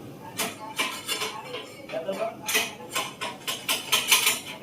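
A kadai is scrubbed clean before making sheera in a caterer's kitchen. Metal clanks and scrapes come in irregular bursts, close by.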